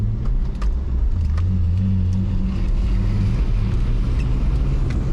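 A BMW E46 320i engine revs steadily while drifting in the rain, with a loud continuous droning engine note and road and rain hiss throughout.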